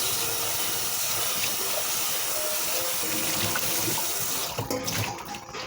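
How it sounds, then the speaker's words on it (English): Strained fresh pineapple juice pouring steadily into a bowl, a continuous close splashing trickle that holds for about four seconds before breaking up into gurgles as the flow ends. "to pour the strained pineapple juice in"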